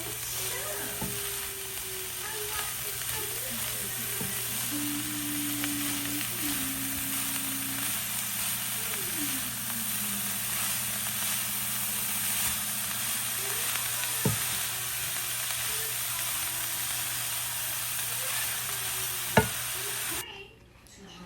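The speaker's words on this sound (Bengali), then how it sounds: "এখন আমি সবগুলোকে ভালো করে নেড়ে নিব।" Carrots and cabbage stir-fry in a pan with spices, making a continuous hissing sizzle broken by occasional stirring scrapes. A faint tonal whine runs underneath, and there is no talk.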